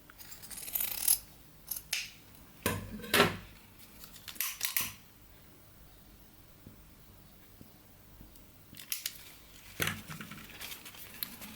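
Scissors snip the edge of a ribbon boutique bow. Several sharp, close cuts come in quick clusters, then a quiet stretch, then a few more snips near the end.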